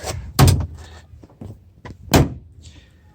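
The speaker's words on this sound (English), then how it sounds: "Also, close the door here." A door on a Yamaha RMAX 1000 UTV shuts with two solid, loud thunks about two seconds apart, with quieter rattles and clicks between them.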